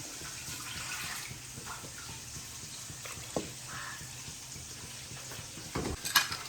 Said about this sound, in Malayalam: ഇനി കുറച്ചുകൂടെ വെള്ളം ഒഴിക്കാം